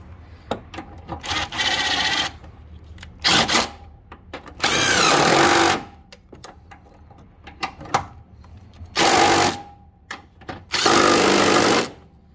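Honda CR-V 2.4L engine mount bolts being tightened with a 17 mm socket, heard as several bursts of close ratcheting clicks and rasping, separated by quieter pauses with small metallic taps.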